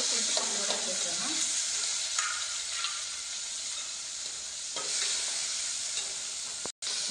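Tomato pieces and tamarind fry in a pan for a purple Chanakya chutney, giving a steady, close hiss of sizzling with occasional stirring scrapes and no talk.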